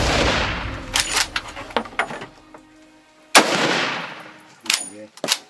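Hunting rifle shots fired at a sable antelope on a South African safari: two sharp, loud cracks about two seconds apart, each followed by a rolling echo, with quiet rustling and faint handling noises between them.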